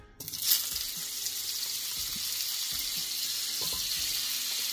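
Butter hits hot frying oil on a lowered stove flame with a sudden burst, then settles into a steady, close-up sizzle that carries on evenly, while cooking eggplant bulgur pilaf.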